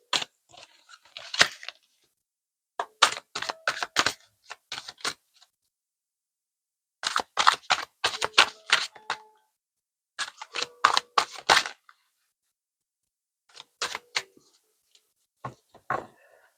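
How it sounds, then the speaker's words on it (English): A large tarot deck gets shuffled in bursts of rapid riffling card clatter, close and crisp, with silent pauses between several rounds and no talk over it. "So many in this deck, it's quite hard to shuffle."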